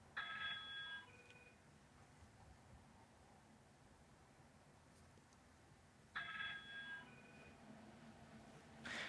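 Telephone ringing with repeated incoming calls: two separate electronic ring bursts several seconds apart, with a faint hiss between them and no talk.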